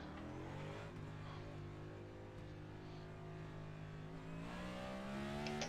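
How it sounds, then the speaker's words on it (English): A race car in a racing video game runs laps, its engine holding a steady droning tone with harmonics that slowly climb as it revs up near the end, continuous and fairly loud with no talking. "I'm going to drive my car a couple of laps for these guys"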